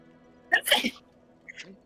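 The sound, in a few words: sneeze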